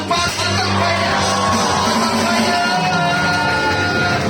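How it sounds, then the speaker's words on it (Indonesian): A church congregation shouts together as one loud, sustained roar of many voices, filling the hall close and continuous. "Habis hitungan keempat kita akan teriak shalom sama-sama ya."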